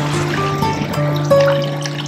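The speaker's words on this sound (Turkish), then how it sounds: "Suların süzüldüğü, daha suların süzüldüğü bu nokta." Water trickling over rocks on a hiking trail near a hidden waterfall, a steady close liquid murmur with a few tonal hums running through it.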